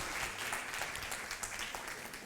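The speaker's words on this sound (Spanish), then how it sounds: "un pequeño aplauso" Brief, soft applause from a small audience at an education event, scattered hand claps at a low level throughout.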